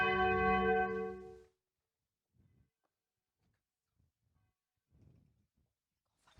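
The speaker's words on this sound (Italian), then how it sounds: "Presto, suonate la campana!" A single bell strikes loudly once and rings out for about a second before dying away, followed by scattered faint knocks and shuffles in an otherwise quiet space.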